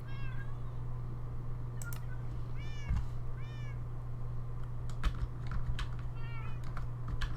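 Cat in Minecraft meows several times, short rising-falling calls spaced over a few seconds, with keyboard clicks and a steady low hum underneath.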